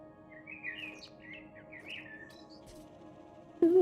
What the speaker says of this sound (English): I can hear the birds singing